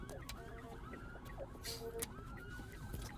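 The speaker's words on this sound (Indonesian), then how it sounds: "Oh, dia dalam ambulan." An ambulance siren wails faintly in street traffic, its warbling tone rising and falling in a distant, low-level mix with road noise.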